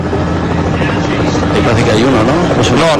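A television helicopter hovers over a road cycling race at a world championship, its steady rotor thrum loud and continuous beneath excited commentary from broadcasters.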